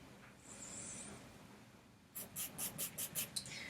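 Chalk drawn across woven fabric to mark cutting lines: a soft, faint scratch at first, then a quick series of short rhythmic strokes, close and quiet.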